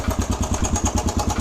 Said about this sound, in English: So you can hear, I think it's the valves or the cam chain.